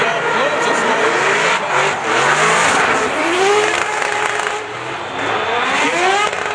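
A Formula D drift car slides through a turn at the Long Beach Grand Prix 2018 on a Friday night, its engine revving hard over sustained tire squeal, with crowd noise and an announcer's commentary underneath.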